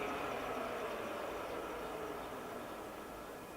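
A TOS removable gap bed engine lathe runs at 1,000 RPM with a faint, steady whir and hiss that holds an even level and fades slightly toward the end, with no voices.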